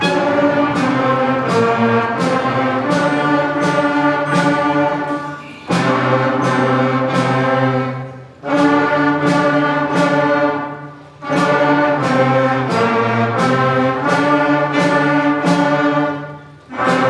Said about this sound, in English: we were able to play our very first song, Merrily We Roll Along